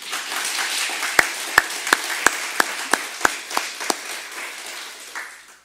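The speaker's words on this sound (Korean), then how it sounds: "그리고 담임 목사에서 한번 박수하겠습니다." A church congregation applauds during a special evening service, a broad wash of clapping that builds, carries a run of evenly spaced strong claps, then thins and dies away.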